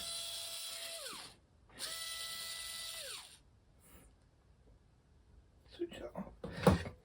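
A small high-pitched hobby drill with a tiny bit, used on a model ship, whirs in two bursts of about a second each, its pitch sliding down as it spins off, followed by light clattering.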